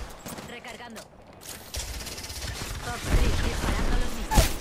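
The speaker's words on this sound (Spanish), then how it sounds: "Me disparan, amigos." Gunfire from the video game Batman Arkham Origins crackles in dense bursts that swell louder toward the end, with one sharp crack near the close, mixed with game effects and a voice speaking over it.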